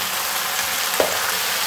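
Water lilies (shapla) frying in hot oil in a pan give a constant, close, bright sizzle and hiss, with one small pop partway through.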